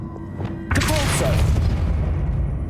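Depulso spell cast in the Hogwarts Legacy video game: a sudden loud booming blast with a heavy thud, followed by a sustained rumbling burst that slowly fades.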